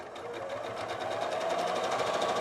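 A sewing machine stitches layers of a quilt with a steady, fast mechanical whir, close and continuous throughout, with no voices.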